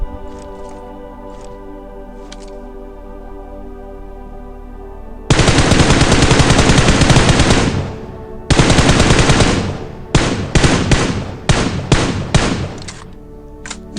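Bursts of automatic gunfire in a battle royale shooter, a long sustained stream followed by a second long burst and several short rapid volleys, loud and close with no talk over them.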